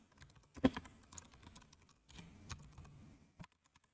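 Quick, irregular keystrokes on a computer keyboard, tapping in short bursts with brief pauses between them, close and fairly quiet with no one speaking.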